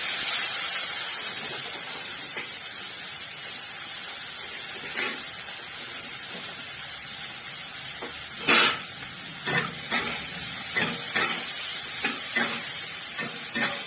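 Chopped onions fry in hot oil with dried chillies and cumin, giving a steady, fairly loud sizzle with a few sharper crackles and pops scattered through the second half.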